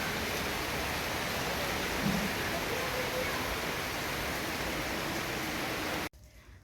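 Steady, dense rain hisses evenly throughout in the early evening, then cuts off abruptly near the end.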